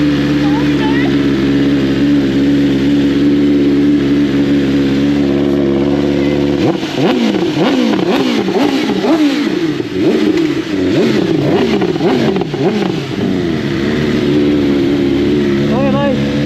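Motorcycle engine idling loudly up close, then revved repeatedly in rising and falling bursts before settling back, with people talking over it, before a mountain ride at Jebel Hafeet.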